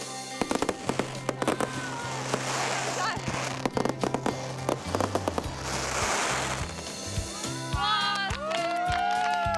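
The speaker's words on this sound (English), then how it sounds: "A lot of preparation and design goes into a fireworks display." A fireworks display booms and crackles in rapid volleys with sharp pops and fizzing bursts, fairly near and loud, while people talk and exclaim over it and whistling rockets rise near the end.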